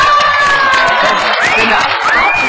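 A studio audience at a televised beauty and fashion segment cheers and claps loudly throughout, with whoops and shouts rising over continuous applause and voices mixed in the crowd.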